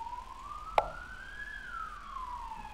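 A siren sweeps past on the street, its wailing tone rising and then falling steadily over a few seconds, at moderate distance, with one sharp click partway through and no talking.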